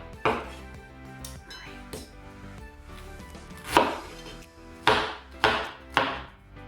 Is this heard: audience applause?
no